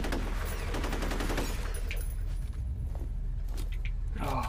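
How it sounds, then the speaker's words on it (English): Rapid gunfire in the video game F.E.A.R., dense volleys of shots in the first seconds that thin out into scattered bursts and impacts. "Stop shooting me!"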